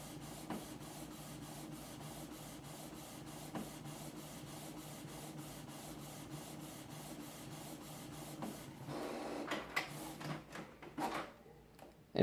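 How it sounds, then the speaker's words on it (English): A Canon PIXMA TS6220 inkjet color printer runs steadily with a mechanical hum and rhythmic ticking, shaking the table, then shifts into louder scraping, shuffling movement near the end. No one speaks. "the whole table is shaking from the printer."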